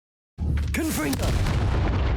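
A Confringo spell explodes in the Hogwarts Legacy video game: a sudden loud blast breaks the silence and rolls into a sustained rumbling roar with brief whooshing magical tones.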